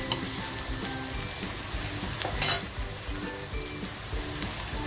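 Green chillies fry in hot oil for a sweet-sour tomato chutney, a dense continuous sizzle and crackle with occasional stirring, close and unbroken by talk.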